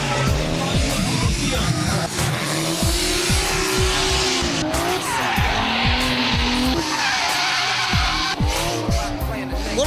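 Drift cars slide sideways at the D1NZ Drifting Championship at Pukekohe, engines revving hard with repeated shifting bursts while tires squeal and scrub continuously, loud and close, with a voice talking over the action.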